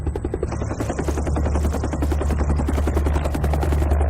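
A helicopter lands on a ship's flight deck at sea during the 1975 evacuation of South Vietnam, its loud rotor chop beating steadily over a heavy low engine roar for the whole stretch, close by and with no voices.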